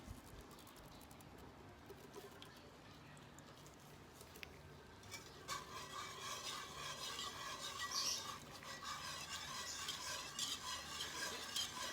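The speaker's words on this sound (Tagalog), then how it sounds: "i-mix na natin yung ating condensed milk" Condensed milk is stirred in a bowl with soft scraping and faint wet patter, quiet at first and growing busier and louder in the second half, with no talking.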